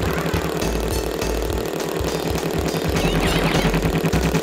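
A motorcycle engine drones in a racing level of Crash Bandicoot Warped, with a steady, busy mid-pitched revving and rattling texture that runs continuously at even loudness.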